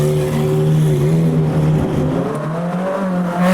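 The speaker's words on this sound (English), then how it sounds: "Last few cars rolling out. Modified McLaren, 458 Speciale Aperta behind." Modified McLaren followed by a Ferrari 458 Speciale Aperta rolling out after an underground car meet, a steady loud engine drone with harmonic tones shifting slightly as the cars move off, no talking.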